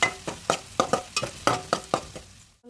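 Chopped onions frying in hot oil in a kadai for a homemade ridge gourd curry, with about nine evenly spaced scraping stirring strokes over a steady soft sizzle, close and clear, no talking.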